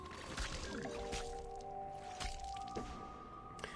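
A Water Balloons card played in the Plants vs. Zombies Heroes video game makes a brief wet squish and drip splash, quiet against busy game sounds with a few tonal chimes.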